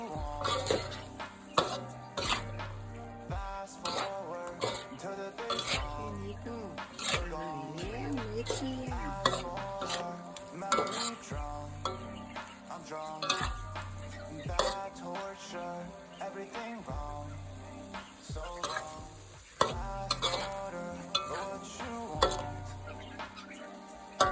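Shrimp are stir-fried with shrimp paste and stink beans in a pan: a spatula scrapes and clanks in a steady rhythm over a soft sizzle, with background music playing throughout.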